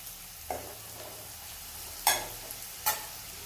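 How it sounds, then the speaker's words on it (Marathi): Chopped onion frying for upma in a pan, a quiet background sizzle broken by three brief stirring scrapes, with no talking. "मी तो लालसर असा कांदा भाजून घ्यायचा आहे आपल्याला"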